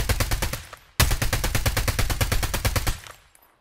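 Rapid automatic gunfire in the mobile shooter Call of Duty Mobile Battle Royale, two close, loud bursts of evenly spaced shots separated by a short pause, the second burst longer before fading out.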